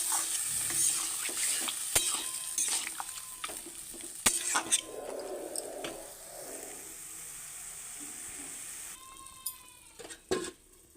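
Cauliflower stalk curry being stirred in a pan as its water dries off: a spatula scrapes and knocks repeatedly over a low sizzle, with a few sharp metallic clinks and scattered background noises.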